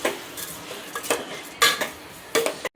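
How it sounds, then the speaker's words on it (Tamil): Several sharp metallic scrapes and clinks from a spoon stirring rice with added salt in a metal pot, the strokes coming in irregular bursts against a quiet background. "உப்பு சாதத்துக்கு தேவையான உப்பு போட்டுட்டு நல்லா கிண்டி விடணும்."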